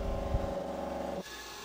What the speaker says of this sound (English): I'm just facing off the inside of the fixed vise jaw here